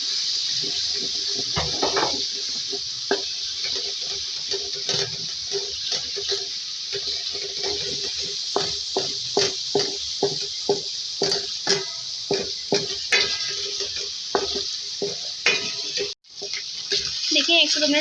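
Oil in a karahi fries ginger-garlic paste for an aloo gobi dish with a steady, bright sizzle, close up, broken by frequent scrapes and clicks of a spoon stirring against the pan.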